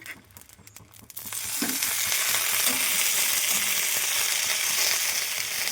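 Fish frying in coconut oil in a clay pan, quiet scraping at first, then a loud, dense sizzle that surges up as the pieces are flipped and holds steady and close to the end.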